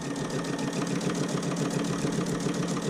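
A sewing machine stitches a fabric PPE mask with a steady, continuous motor whir and needle hum throughout. It is close and fairly loud, and nobody speaks.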